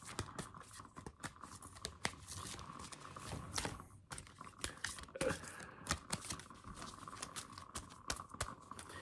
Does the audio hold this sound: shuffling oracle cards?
yes